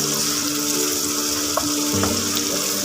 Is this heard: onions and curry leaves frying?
yes